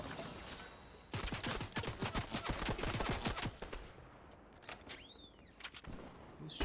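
Bursts of rapid gunfire in Fortnite, a loud dense volley of shots for a few seconds that then thins to scattered faint pops against a quieter background.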